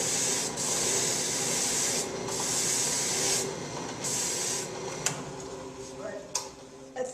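Hand sanding across a wood and veneer lamination, a broad scratchy hiss in long back-and-forth strokes, close and steady, with a few light knocks toward the end and no talk.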